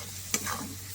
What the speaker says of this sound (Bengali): এবার আমি মশলাটা ভালো করে কষিয়ে নেব।